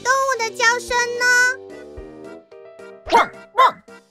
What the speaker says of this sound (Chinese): 这是可爱小狗的叫声